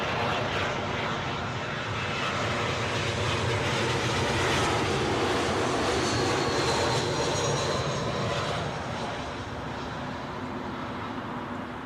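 A British Airways airliner arriving from Prague comes in to land at London Heathrow, a sustained jet roar that swells slightly midway and then eases, fairly close and continuous, with no voices.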